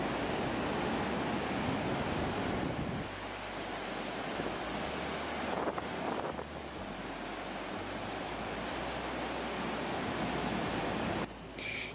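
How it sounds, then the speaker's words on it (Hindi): The Kunhar River flowing beside a mountain road toward Naran, heard as a continuous broad rushing roar of water with some wind buffeting, steady and fairly close, with no voices. "दरियाए कुनहार के बहते पानी का शोर कानों में मशहूर कुन मौसीकी के रस खोलता है।"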